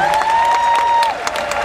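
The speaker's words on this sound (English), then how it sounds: "please give them a huge round of applause," Crowd applause and light cheering for belly flop contestants at a cruise ship poolside competition, brief and fairly loud, with a sustained tonal whistle-like line running through it.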